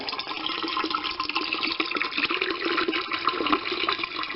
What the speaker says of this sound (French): Remplissage d'eau.